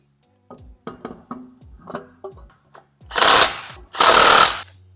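Impact-style tool tightening wheel bolts on a 5-cylinder swapped BMW E30 in a garage: a run of short ratcheting bursts followed by two loud, sustained rattling blasts, close and with no talking.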